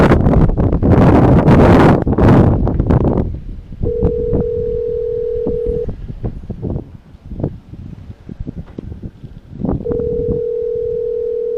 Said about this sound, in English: Oh, that's probably wind.